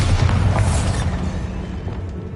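Bombarda blast spell cast in the Hogwarts Legacy video game: a loud, dense booming rumble that fills the clip, strongest at the start and slowly easing off.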